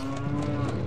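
A cow moos in a Zelda video game inside Jabu-Jabu's Belly: one loud, sustained, droning low moo that fills the moment alone.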